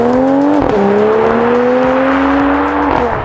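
A 2023 Mercedes-AMG GT53 with an electric supercharger pulls hard, its engine note a loud, smooth whine that climbs in pitch, drops briefly at a gear change, then rises steadily again.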